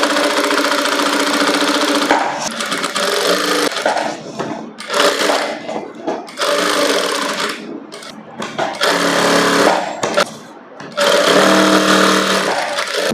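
A sewing machine runs in a few sustained, loud bursts with short pauses between them while stitching around fabric for a princess-cut tailoring job.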